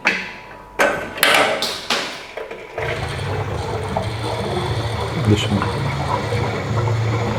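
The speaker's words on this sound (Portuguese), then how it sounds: "Então tá borbulhando, vocês estão ouvindo." CO2 gas bubbling through homebrew beer in a keg after depressurizing, a steady dense bubbling and hissing that starts abruptly after a few sharp clanks and continues close and fairly loud.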